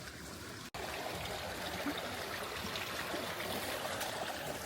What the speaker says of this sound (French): Oh, des petits ruisseaux et tout, c'est trop beau.